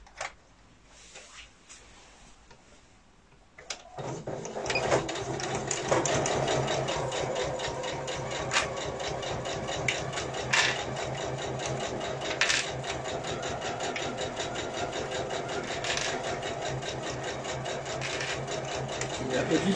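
A sewing machine stitches a faux leather pouch with a steady, continuous mechanical whirr at close range, starting after a few quiet seconds and running without pause to the end.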